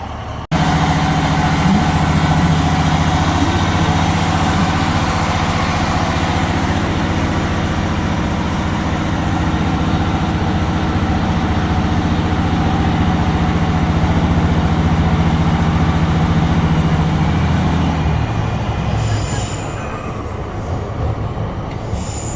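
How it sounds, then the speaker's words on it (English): A diesel multiple unit train on the Swansea to Pembroke Dock line, heard from inside with the windows open, drones loudly and steadily with a deep engine hum and rolling wheel noise, then eases off slightly near the end. "You get the engine quite loud in this because it's multiple diesel unit and windows are open, so you get the full sound of the engine."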